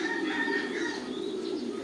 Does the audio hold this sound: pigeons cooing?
yes